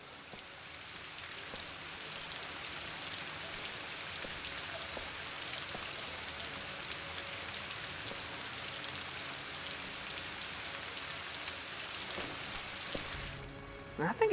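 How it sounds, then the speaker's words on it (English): Rain falls steadily in Rise of the Tomb Raider, a soft, even hiss of drops on surfaces that continues for over ten seconds, with faint background sounds and a brief louder burst at the very end. "I think it rains a lot in England."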